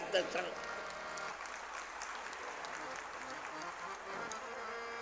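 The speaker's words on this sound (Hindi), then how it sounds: "एक बार ताली ठीक से बजाइए यार" An audience at a Ram Katha religious discourse claps together, a continuous, fairly quiet wash of applause heard from a distance in a large gathering.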